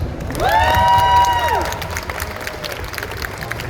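A convention panel audience at Nostalgia Con Anaheim 2025 cheers and applauds. Steady crowd noise fills the clip, with a loud shouted cheer rising early and then settling into continuous clapping and murmur.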